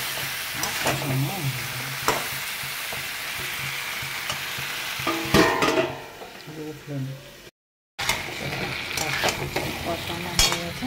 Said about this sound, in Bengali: এইভাবে ঢেকে ঢেকে কষাবো, আলুগুলো সিদ্ধ হয়ে যাবে